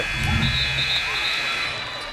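A basketball horn at a high school game between the Tonganoxie Chieftains and the Ottawa Cyclones sounds a sustained, steady blare ending the first half, under an announcer's commentary and crowd noise.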